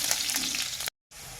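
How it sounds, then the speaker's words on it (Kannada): Crushed garlic sizzles hard in hot oil in a pan, a dense, bright crackle up close that cuts out briefly to silence and then resumes more evenly, without any talking. "ಎಣ್ಣೆ ಕಾದಿದೆ. ಈಗ ಇದಕ್ಕೆ ಜಜ್ಜಿರೋ ಬೆಳ್ಳುಳ್ಳಿನ ಹಾಕ್ಕೊಂಡಿದ್ದೀನಿ"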